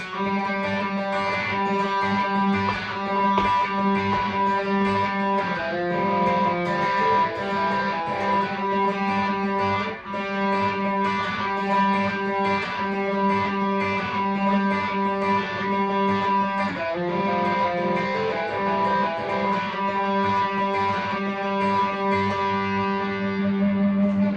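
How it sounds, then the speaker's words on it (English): Fast, continuous rolling fingerpicked guitar notes cycle through chord changes in a steady banjo-style pattern, bright and up close with no voices. "we can do this banjo roll idea over the groove"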